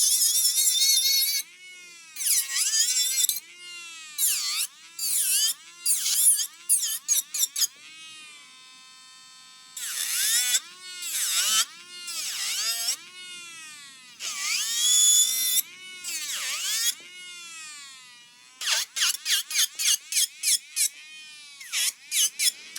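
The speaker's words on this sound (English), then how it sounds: "from using the drill on high speed," A high-pitched electric nail drill on high speed whirs in repeated bursts, its pitch sweeping up and down as it speeds and slows, with short pulsing runs near the end.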